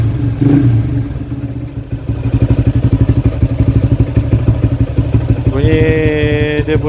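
Motorcycle engine being started after an overhaul, catching and settling into a steady, rapid thumping idle with a rev near the end, close to the microphone.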